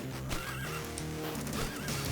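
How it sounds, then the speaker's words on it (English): A horse whinnies in the A Fistful of Gun video game, a clear wavering neigh over steady game music and effects lasting about two seconds. "they just killed a poor little horse, Jolly Jumper"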